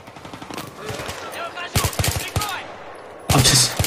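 Rapid gunfire bursts from the Battlefield 3 campaign mission Rock And A Hard Place, loud automatic volleys separated by short gaps, with a heavy close burst near the end and game voices in between.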